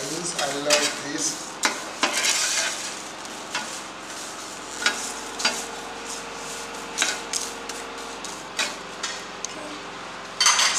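Nigerian chin-chin dough cooks without oil in a covered Saladmaster electric skillet, giving a steady soft sizzle broken by repeated scraping and stirring knocks at an uneven rhythm.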